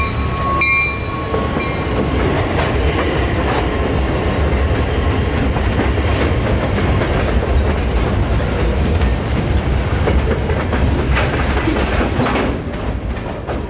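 A freight train rolls steadily past on the Palmetto Subdivision, its loud, continuous wheel rumble and rail clatter filling the whole stretch, with faint squeals and a brief horn-like tone near the start.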